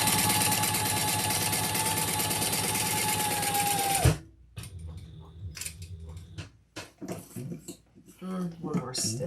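A sewing machine runs steadily and loudly for about four seconds while stitching down each side of a leather piece, then stops abruptly, followed by quieter handling noises and a voice speaking.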